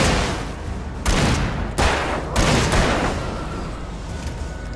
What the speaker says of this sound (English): She's a badass with a shotgun.